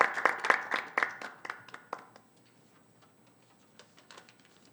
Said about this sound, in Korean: 큰 박수로 회장님을 환영해 주시면 감사하겠습니다